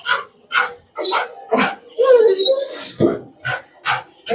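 A pet dog barking in a steady series of sharp, loud barks close by, with a brief whining yelp partway through, in a home with fish tanks.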